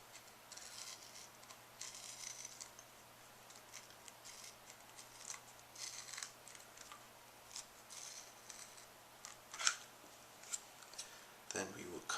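Scissors cut through material for DIY fat grips. Quiet, irregular snipping and crunching clicks recur close by over faint background noise.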